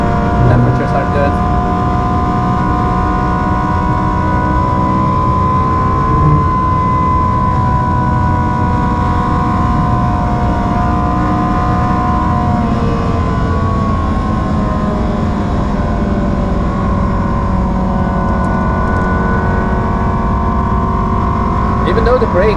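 Ferrari 360 engine on a track, a loud sustained drone whose pitch slowly rises and falls as the car drives on, close and steady throughout.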